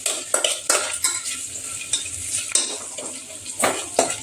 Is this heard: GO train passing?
no